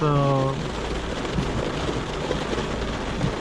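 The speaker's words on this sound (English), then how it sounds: "As you can see, it rains incredibly tough." Steady, dense heavy rain hisses and patters continuously on a Renault Clio while driving, loud and close, after a brief tonal sound at the start.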